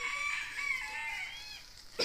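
A chicken at a raptor center in Cayo, Belize crows in a long drawn-out call over a faint outdoor background, fairly distant and alone without talk.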